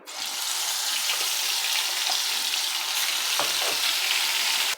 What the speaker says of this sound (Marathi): आता तेल तापलेलं आहे आपण याच्यामध्ये मसाला घालू